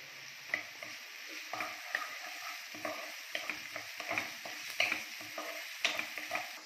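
Chopped onion with garlic and grated ginger fries in a kadai for kadai paneer, giving a steady close sizzle broken by repeated scraping stirs of a spoon against the pan, with no talking.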